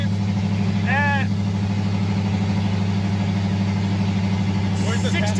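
A 1965 Ford Mustang cruises at 55 mph, its engine a steady, loud low drone with a constant road rumble throughout, while people talk over it.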